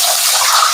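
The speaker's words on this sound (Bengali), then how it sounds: "একটু তেল গরম হয়ে গেছে, এরপর দিয়ে দিচ্ছি ইলিশ মাছের মুড়োটা ভাজতে।" Hilsa fish head dropped into hot oil, a loud steady hiss and sizzle of frying, close and continuous with no voices.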